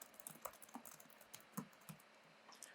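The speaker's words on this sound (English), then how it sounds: "I can type some details about what we're going to talk about" Keys tapped on a computer keyboard, quiet and close, in an irregular run of separate clicks with short pauses, no voices.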